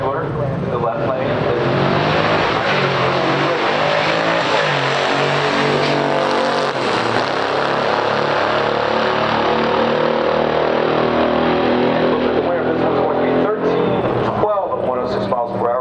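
Loud roaring engines of a 1969 Chevelle SS396 with 375 horsepower and a 1969 AMC Rambler Scrambler in a pure stock drag race, a sustained revving blare with rising gear changes and crowd noise throughout.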